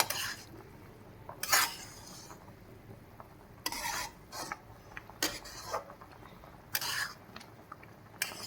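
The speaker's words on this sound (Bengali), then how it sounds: "এটা সব সময় রান্না করে তো নেড়ে যেতেই হবে।" Hog plum pickle being stirred in a pan during cooking, a handful of short scraping and clinking spoon strokes spaced apart over a faint background, with no talking.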